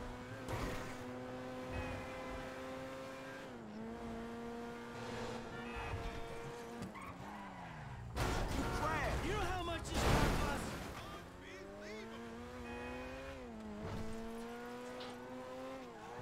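A car driven in GTA 5, its engine droning steadily with revving pitch changes and a burst of tire squeal or skidding midway, while people talk over the game sound throughout.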